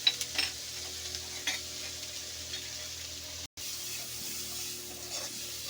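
Chopped pumpkin-leaf ingredients frying in a pan while being stirred, with a steady quiet sizzle and a few scraping stirs near the start.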